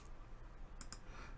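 Computer mouse clicks on a start button, two quick, faint, close clicks in a quiet room.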